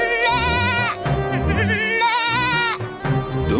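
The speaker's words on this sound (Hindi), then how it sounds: "तुम चाहे जितनी भी मिमिया लो" A cartoon goat, shivering from the cold inside a hut, bleats in several wavering, quivering cries, loud and close over background music.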